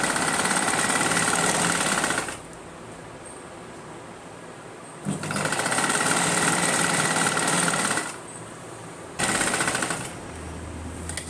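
Sewing machine stitching pattu lehenga fabric with lining, running in three loud bursts of about two seconds each, separated by quieter pauses and no talk.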